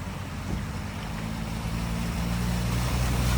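A Renault car pushes through deep floodwater in Leicester with a continuous low engine drone and rushing water, fairly loud and steady with no voices.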